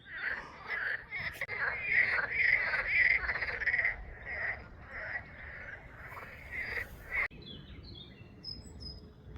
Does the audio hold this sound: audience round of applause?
no